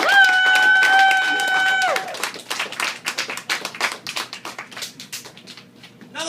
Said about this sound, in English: Another round of applause for Cody, everybody.